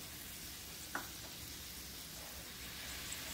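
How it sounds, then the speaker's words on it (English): Crème fraîche stirred into a sizzling pork chop pan sauce, a soft steady hiss with a faint spoon scrape near the start, low and continuous throughout. "You want to stir that around in there and get it all melted"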